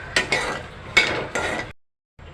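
Peanuts being dry-roasted and stirred in a pan, four close scraping, rattling strokes of a spatula through the nuts, then a pause and the start of another stroke.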